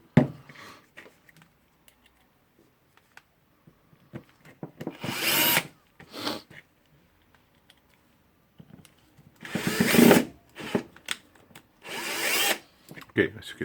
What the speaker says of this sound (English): I'm screwing screws just a little bit to align all the holes, and then we'll screw them to the end